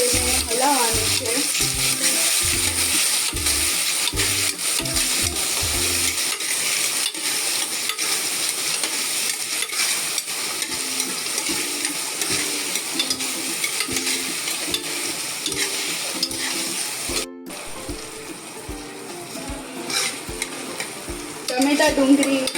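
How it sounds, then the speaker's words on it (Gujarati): Onions and tomatoes sizzle in a pan as a spoon stirs them, scraping in repeated rhythmic strokes at first, then the steady frying hiss continues with occasional clinks of the spoon. "ટમેટા ડુંગળી પાકી જાય ત્યાં સુધી તેને હલાવતા રહીશું।"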